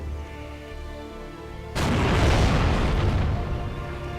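A tank cannon fires in the WWII strategy game Steel Division Normandy 44: after a quiet stretch, one sudden, loud, heavy boom breaks in and rolls on as a long rumbling tail.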